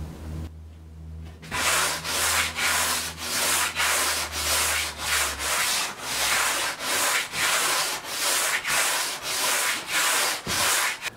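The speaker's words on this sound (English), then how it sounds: "What I used to do the sanding is just this cheap sanding block thing." Steady back-and-forth rubbing of a coarse sanding block on XPS foam for a surfboard blank, about two strokes per second, close and rhythmic with no talking.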